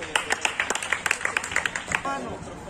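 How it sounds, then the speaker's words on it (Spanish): Scattered rhythmic clapping from a crowd at a rap battle final, sharp individual claps in a quick pulse over a short stretch, with a voice and crowd noise mixed in near the end. "Un aplauso para la final."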